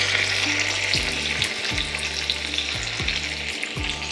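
Trout fillets sizzle steadily skin-down in a hot pan over a medium-high flame, a loud continuous frying hiss with a few spatula scrapes and stirring clatters, no voices.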